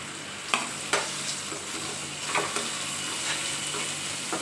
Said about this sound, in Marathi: टोमॅटो पण जरा मस्त फ्राय होऊ द्यायचं थोडंसं.